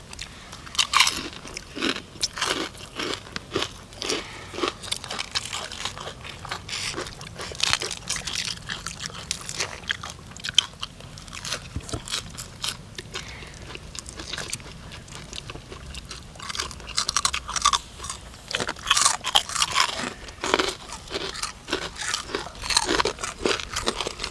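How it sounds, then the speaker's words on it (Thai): Crisp, freshly fried pork rinds crunched and chewed up close alongside a Thai crab papaya salad, with a continuous run of loud bites and crackly chewing and no talking. "ของมันใหม่มันสดกรอบ หอมเนาะบสาบเพราะว่าใส่น้ำมันใหม่ตลอด คุณจอย"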